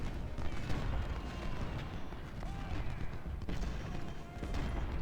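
Massed musket volleys and battle din from the Civil War strategy game Ultimate General at Brandy Station, a dense, continuous roar of gunfire with scattered sharper cracks throughout.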